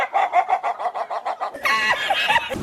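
Chickens cluck close by in a quick run of about a dozen short, regular clucks, and a louder, more drawn-out squawking call follows. No one speaks.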